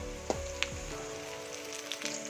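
Curry leaves hitting hot oil with sautéed garlic and ginger for a tender jackfruit stir-fry, giving a steady close sizzle with a couple of sharp crackles early on and a low hum underneath.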